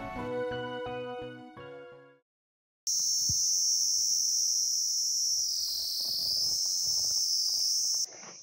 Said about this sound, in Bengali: আর তার সাথে এরকম ঝিঝি পোকার ডাক